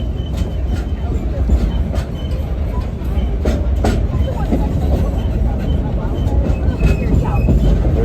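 The Frisco Silver Dollar line steam excursion train rolls down a steep grade at an Ozarks theme park, with steady rumbling wheels, occasional clicks and squeaks from the cars, and people talking on board.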